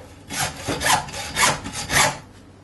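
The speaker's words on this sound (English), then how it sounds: "Along the bone, and then with our hacksaw" Four rough, rasping back-and-forth strokes of a hacksaw cutting through a beef rib bone, close up and fairly loud, with short pauses between pulls.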